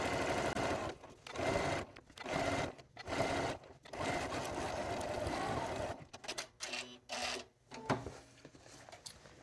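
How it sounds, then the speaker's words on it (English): Sewing machine stitching two fabric pieces together for a large bag, running in loud bursts of rapid whirring separated by short pauses, with brief quieter gaps near the end. "I'm going to stitch my 4 pieces, or my 2 pieces, together."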